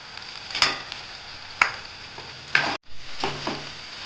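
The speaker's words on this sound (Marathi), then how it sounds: "चांगलं परतून घेऊ आता पोहे टाकूया" Poha stirred in a pan with turmeric and salt, giving three sharp scraping knocks of a spoon against the pan over a low background hiss, then quieter stirring scrapes near the end.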